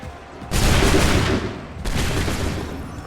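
Two loud volleys of musket fire boom in Assassin's Creed 3, each a dense crackling burst of many simultaneous shots, the second following about a second and a half after the first, with no talk.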